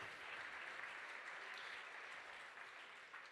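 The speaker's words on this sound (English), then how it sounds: "I want to start out by another round of applause for Ms. Shannon Paul" Gala dinner audience applauding a professional auctioneer, a dense, steady wash of many hands clapping at moderate distance, fairly quiet and unbroken for the whole stretch, with no talking on top.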